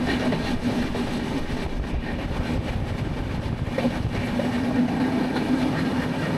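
An Ahmedabad–Bhuj express train running at high speed makes a constant loud rumble and roar with faint rhythmic rail clatter, heard from inside the carriage with no voices.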